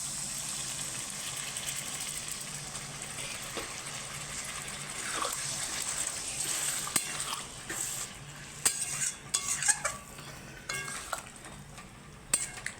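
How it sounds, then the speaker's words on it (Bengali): Hot water poured into a dried-down chicken curry with potatoes makes the gravy bubble at once; a continuous rushing, bubbling hiss runs throughout, with scattered spoon and pot clinks growing busier toward the end. "এই যে আমার ঝোলটা সঙ্গে সঙ্গে ফুটে গেছে"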